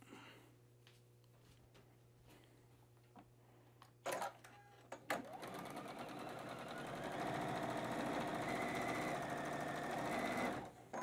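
A sewing machine stitches a batik fabric block, quiet at first with a few clicks and then a steady, whirring run of stitching that grows louder and holds for several seconds.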